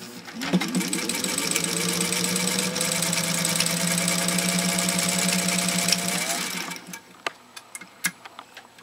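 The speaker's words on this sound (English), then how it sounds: "I'll show you what this 201-2 can do with 2 unbelievably thick layers of cowhide leather" A Singer 201-2 sewing machine stitches through two thick layers of heavy cowhide leather with a loud, steady mechanical hum and rapid needle ticking. It runs several seconds, then stops and leaves a few faint clicks.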